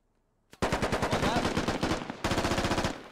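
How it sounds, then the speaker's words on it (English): Silenced M4 rifle fire in a squad-based military shooter game: two rapid automatic bursts of suppressed shots, close and loud, the first about two seconds long and the second after a brief pause. "Here comes silenced M4 fire."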